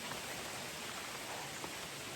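Heavy rain pours down outdoors, a dense, even hiss that fills the whole stretch with a few faint drop ticks, loud and close, with no talking on top.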